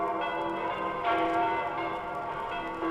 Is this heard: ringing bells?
yes